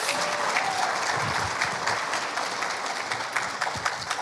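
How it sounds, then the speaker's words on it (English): A crowd claps steadily and fairly loudly throughout, a dense wash of applause with no break. "Let's give a round of applause"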